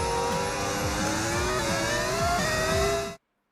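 An F1 car engine in the F1 25 video game howls at high revs, its pitch climbing and shifting through gears in a steady, loud whine before cutting off abruptly into silence.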